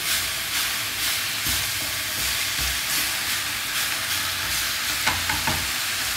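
Spinach sizzling in a hot frying pan, a steady close crackle and hiss with a few brief louder pops near the end, with no talking.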